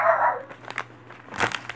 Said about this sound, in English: ignore my dogs there from barking.